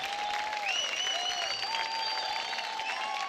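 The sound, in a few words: audience applause on TV dance show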